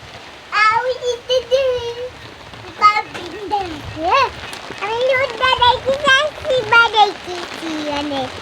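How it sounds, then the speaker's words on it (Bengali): Heavy rain pours steadily in the background while a child and an adult talk close by. "আম্মু জোরে বৃষ্টি নামছে চলো আমরা ঘরে যাই"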